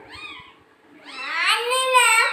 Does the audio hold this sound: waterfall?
no